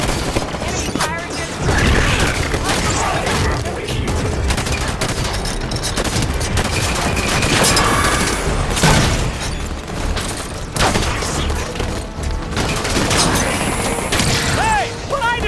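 Sustained enemy gunfire in the shooter game Halo 5, with dense, overlapping bursts of automatic fire and heavy booms filling the whole stretch, loud and continuous, with occasional mechanical clanks and faint voices underneath.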